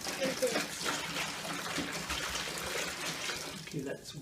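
Water is poured into a container, about a gallon at a time, making a steady splashing trickle that runs unbroken nearby while a voice talks over it.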